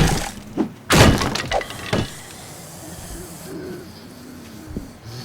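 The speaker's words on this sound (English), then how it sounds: "So here, I'm going to use my axe" An axe smashes into a house in a video game, with a few sharp, loud breaking impacts early on, then quieter thuds and hiss as the noise settles, while a voice talks lightly.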